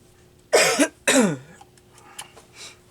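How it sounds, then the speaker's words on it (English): Two sharp, close coughs in quick succession, followed by a couple of faint clicks and a soft breath in a quiet room. "I'm so sorry about the cough."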